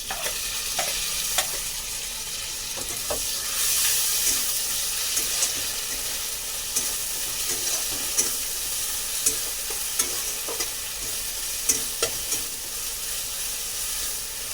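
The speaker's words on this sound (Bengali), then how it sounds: "পেঁয়াজটা ভাজা হয়ে গেছে, এবার দিয়ে দেবো আদা রসুন।" Ginger, garlic and green chilli paste stirred into frying onions in a pan, giving a soft, steady sizzle with scattered scraping clicks from the spoon, fairly quiet.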